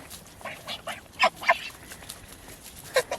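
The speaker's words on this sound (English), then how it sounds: "Taking the goslings around?" Geese and goslings on a homestead farm honking and calling, a handful of short bright honks scattered across the stretch, near but fairly soft against quiet outdoor background.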